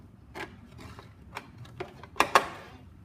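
Studs are bolted onto a metal heat shield with quiet, sparse mechanical clicks and rattles that build to two sharper ratcheting snaps near the end.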